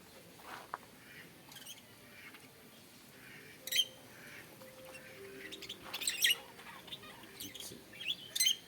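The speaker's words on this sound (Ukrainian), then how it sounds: "попугаї кричуть" Parrots chirp and squawk in short, scattered bursts at moderate distance, with light rustling between the calls.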